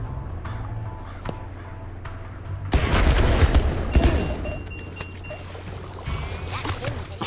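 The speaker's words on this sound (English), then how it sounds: "Go for a cluster bomb because you need less accuracy with that." Cluster bomb explosions in Worms WMD on the Switch: a fast, dense volley of crackling blasts erupts after a quieter stretch, with scattered bursts and pops continuing as the barrage thins out.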